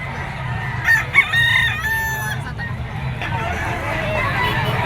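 A yellow-legged golden boy sweater gamefowl rooster crows several times over about a second and a half, the calls strong and near, with a murmur of crowd chatter and market noise continuing beneath.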